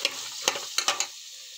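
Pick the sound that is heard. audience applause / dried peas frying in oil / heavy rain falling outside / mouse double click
dried peas frying in oil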